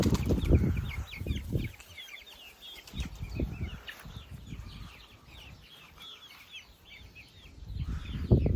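Chicks and chickens on a poultry farm, with young birds raised on sawdust bedding, make a dense, steady chorus of soft cheeping and clucking, with occasional wing flutters and bumps nearby.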